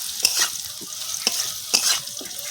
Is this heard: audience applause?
no